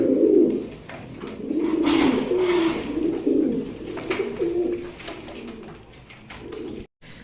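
Fancy racer pigeons coo continuously in low, throaty, overlapping rolls, close by, with soft rustling from the birds.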